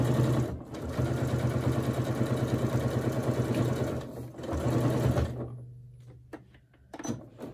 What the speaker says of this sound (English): And now I'm gonna baste up the sides.